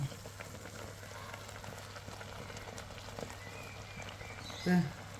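Mango pieces simmer in water inside a covered pot, giving a faint, steady bubbling hiss with a low hum beneath and a brief soft knock near the end.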